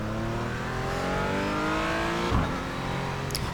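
A Porsche Cayman GT4 in the iRacing sim at Sonoma powers out of a corner, its engine note climbing steadily through the revs, loud and continuous, with a brief tyre scrub near the end.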